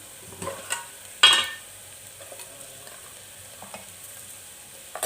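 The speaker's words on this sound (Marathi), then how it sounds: "मी त्याच्यामध्ये आता हळद टाकून घेते" Food frying in a clay pot as turmeric is added to browned onions and stirred, with soft continuous sizzling, a sharp scrape of the spoon against the pot, and lighter stirring sounds afterward.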